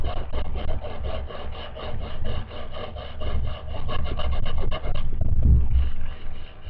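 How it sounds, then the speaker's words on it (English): A sanding block rubs back and forth along the grain of a wooden Marlin Model 60 rifle stock, giving steady close rasping strokes in an even rhythm, with a heavier scrape near the end. "You're going to want to run the sanding block along the grain."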